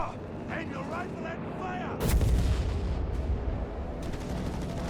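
Rocket strike explosions in the WWII strategy game Company of Heroes 3, a heavy burst of booming blasts and rumbling impacts landing midway and rolling on, loud over ongoing battle noise.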